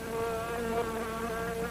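Dense insect buzzing from a horror movie advert, a continuous droning swarm with wavering pitch, steady and prominent with nothing else over it.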